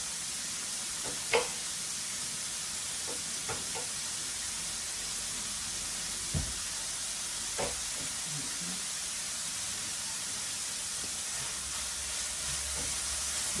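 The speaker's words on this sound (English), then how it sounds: "I'm going to put this with the onions and let them stay there and saute down just for a couple minutes" Onions and garlic sautéing in a pan, a continuous bright sizzle with occasional clicks and knocks of a spoon, steady and close.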